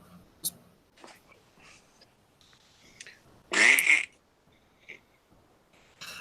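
A person's voice imitates a frog's call, producing one loud, harsh, squawking burst like a strangled duck, set among quieter rustles and breathy noises.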